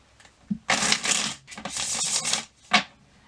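Tarot cards riffle and flutter in quick papery bursts, close up, with short pauses between shuffles.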